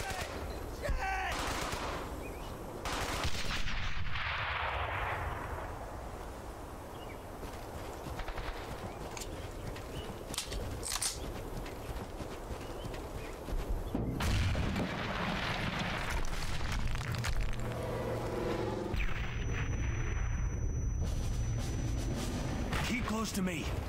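Gunfire and explosions fill a World War II battle in Brothers in Arms: Hell's Highway, with rapid machine-gun bursts, rifle shots and heavy blasts at close range, while voices shout over the combat.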